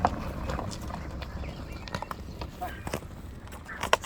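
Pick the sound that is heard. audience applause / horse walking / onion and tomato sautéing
horse walking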